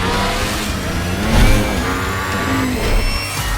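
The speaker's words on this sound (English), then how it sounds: "the V4S unique firing order makes it sound like a particularly evil Ducati." A Ducati Panigale V4 S superbike's V4 engine with its distinctive firing order revs steadily nearby, swelling briefly in a couple of throttle blips over a continuous rumble.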